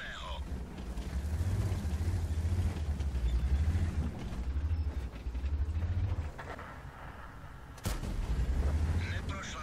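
Centurion AX tank cannon in World of Tanks: deep booming shots with heavy low rumble recur through the scene, and a sharp, loud blast cuts in near the end, alone without talk.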